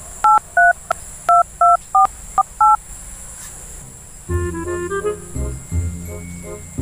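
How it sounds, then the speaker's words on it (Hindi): Touch-tone telephone keypad beeping as a number is dialed, eight or so short dual-tone beeps in an uneven rhythm, clear and close, followed by a ringing tone on the line. "अभी फोन मिला के देखूं खबरी का"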